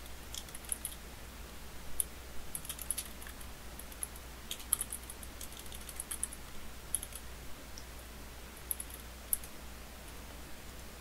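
Quiet, irregular keyboard clicks while an event name is typed on a computer keyboard, a few sharper taps standing out over a faint steady hum.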